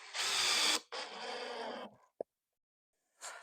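A cordless drill drives screws into a wooden chicken coop during assembly, with two close whirring bursts, a sharp click, and a brief third start after a short silence.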